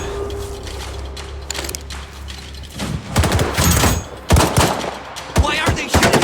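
Gunfire rattles in the STALKER 2 video game, with a quieter stretch first and then loud rapid bursts and sharp shots in the later half, close and dense.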